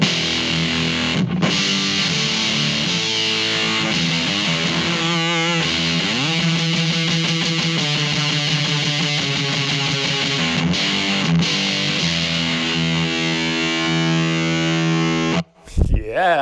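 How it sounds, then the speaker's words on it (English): Electric guitar played through a Red Noise Stonebender fuzz pedal into a Vox AC10 amp, with loud, sustained fuzzy distorted chords and riffs continuing throughout before an abrupt stop near the end. "let's start with the Red Noise Stonebender, and it sounds like this."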